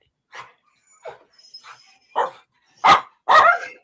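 A dog named Fluffy barks repeatedly, about six separate sharp barks spaced apart and growing louder and closer toward the end, with no one talking over them.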